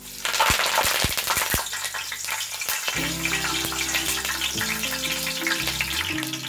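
Curry leaves dropped into hot oil in a pan crackle and sizzle loudly at first, then settle into a steady frying hiss with a low hum beneath.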